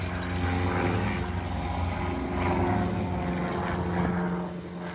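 A helicopter flying overhead near Araku gives a steady, droning engine hum with a strong low tone that holds for several seconds, then fades slightly at the end.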